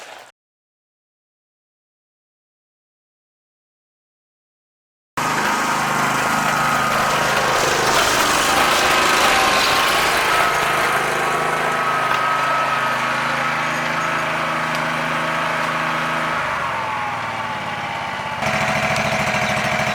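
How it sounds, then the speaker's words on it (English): A lawn mower engine runs steadily and loud after about five seconds of silence, in a yard cleanup of thick, tall overgrown grass, with a droning hum that continues to the end. "I'll pull my mower up beside it so we can see what it's actually at."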